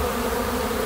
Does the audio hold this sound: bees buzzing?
yes